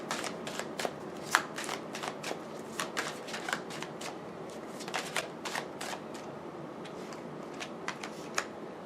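Tarot cards being shuffled for a three-card reading, a steady run of soft riffling snaps and papery flutters, close and fairly quiet, with no voice over them.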